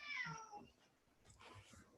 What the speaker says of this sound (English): My cat is crying behind me.